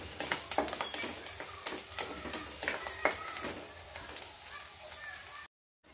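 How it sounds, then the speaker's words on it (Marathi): Chopped onion with one or two green chilies sautéing in a hot pan, a continuous sizzle broken by the clatter of stirring, with soft speech faintly underneath before the sound cuts out near the end. "आता यातच घालणार आहोत आपण 1-2 मिरच्या. त्याही छान परतून घ्यायच्यात आपल्याला."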